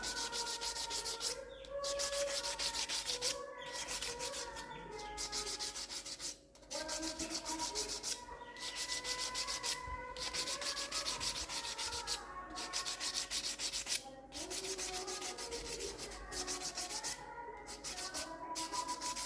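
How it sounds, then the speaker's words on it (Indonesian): Sandpaper rasps steadily against a surface in long back-and-forth strokes, with brief gaps between passes, close and continuous. "Sekarang dilakukan pengamplasan, biasanya bisa digunakan menggunakan amplas yang bisa kita beli di toko bangunan."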